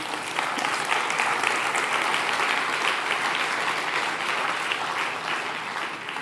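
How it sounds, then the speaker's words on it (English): Conference audience at an opening plenary session applauds the partners, a dense, even wash of clapping that holds steady for several seconds, swells slightly and then tapers near the end. "So perhaps a round of applause there for the partners."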